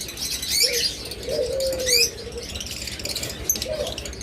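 Caged pet birds, lovebirds, cockatiels and budgies, give close chirps, tweets and soft coos with occasional wing flutters, a busy aviary chatter over faint background voices.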